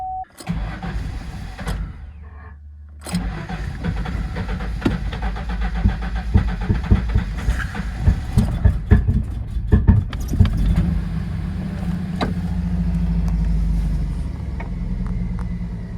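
A 1995 Ford Mustang cranks and starts after a key jingle and click, then idles roughly and unevenly close by, its engine note surging and dipping with rattles and clatter throughout.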